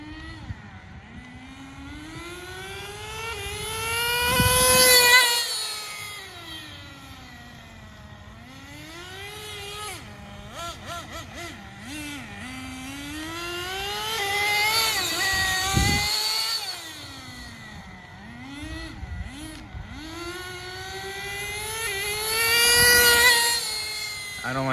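A radio-controlled HotBodies Tornado nitro car screams past repeatedly, its high, buzzing engine note rising and falling as it nears and recedes in loud Doppler sweeps on a test run.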